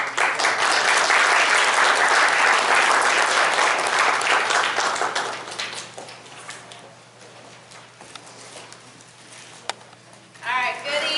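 An audience at an evening sexual violence prevention training seminar breaks into a loud round of applause that fades out after about five seconds, leaving scattered claps, light room noise and then a voice.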